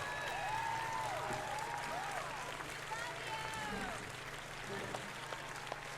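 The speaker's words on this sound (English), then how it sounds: "Yay, applause." A crowd applauds after a musical act is introduced on stage in Red Dead Redemption 2. The clapping forms a steady, dense wash that lasts throughout, with people talking over it.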